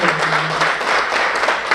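Audience at a seminar clapping in sustained applause, a dense even patter from a crowd in a room with a faint voice beneath.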